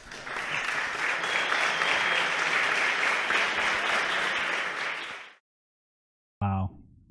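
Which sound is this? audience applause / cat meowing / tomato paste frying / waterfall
audience applause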